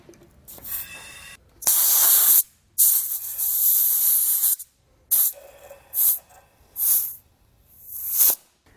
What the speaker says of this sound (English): We're just going to spray it on all of our fittings.